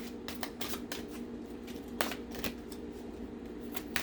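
Large, stiff tarot cards riffle and slide against each other in quick, soft flurries, close up and fairly quiet.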